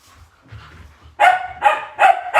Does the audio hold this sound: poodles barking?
yes